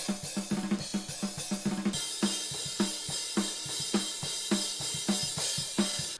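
Unprocessed overhead drum mics from a rock track production, a fast fill of toms and snare rolling into a steady beat with crashing cymbals, rhythmic and loud, no voices.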